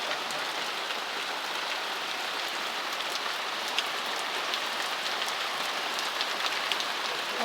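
Heavy rain pours steadily and evenly, a dense hiss of drops on surfaces with no letup and no voices.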